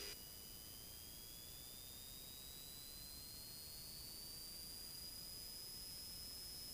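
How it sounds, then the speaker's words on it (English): A Subaru-powered RV-7A experimental airplane engine runs up steadily, a constant loud whir with a slowly rising high tone, no talk over it. "If you want, you can just run the engine up a little bit."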